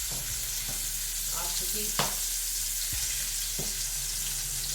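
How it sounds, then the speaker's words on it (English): Butter melting and sizzling in a hot pan with stuffed pork chops, a steady crackling fry with occasional scrapes and taps, while a voice speaks briefly. "I'm going to just drop a pat of butter in there."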